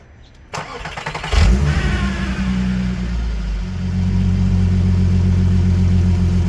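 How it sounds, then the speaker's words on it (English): A Volkswagen Polo with a modified exhaust starts up and revs, a loud, close engine burst that settles into a deep, rumbling idle with another swell toward the end. "Polo's exhaust has been done."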